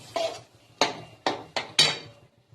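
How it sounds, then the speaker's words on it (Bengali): A spoon stirs rui fish curry with potato and cauliflower in a pot, giving five sharp metallic clinks and scrapes at uneven intervals, close and fairly quiet. "এটা ভালো করে নেড়ে দিলাম"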